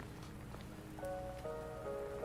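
Steady rain patters down in the video game Wuthering Waves, a continuous hiss on a surface that stays even throughout while tonal game music rises in the background.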